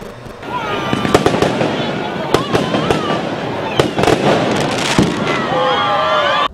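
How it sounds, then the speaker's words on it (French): Firecrackers exploding across Place de l'Indépendance in Dakar on Christmas Eve, loud sharp cracks bursting at irregular intervals over a dense crowd din, with a reporter's voice running throughout. "Les bruits de pétards inondent la place de l'Indépendance en ce 24 décembre."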